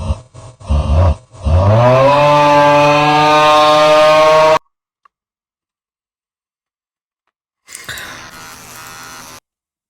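An electric shaver starts with a few short clicks, then holds a loud, steady buzz for about three seconds before stopping abruptly. After a stretch of silence, a second, rougher burst of buzzing follows.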